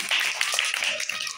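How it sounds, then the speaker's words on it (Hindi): Schoolchildren in a classroom clap together for a classmate during a teacher-led activity, a dense, steady patter of small hands lasting just over a second. "वेरी गुड, तालियां मारिए इनके लिए।"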